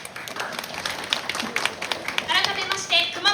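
A crowd claps for a costumed samurai performance at Kumamoto Castle, a scattered run of claps building in loudness while a voice speaks over it near the end.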